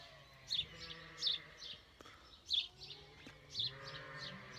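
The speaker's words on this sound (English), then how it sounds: "all the sheep are going absolutely crazy, talking to each other" Several sheep bleat in turn, four distinct calls spaced about a second apart, moderately loud against a quiet outdoor background.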